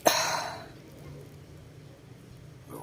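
A single rough cough or throat clear bursts out close by at the start, followed by quiet background rustle.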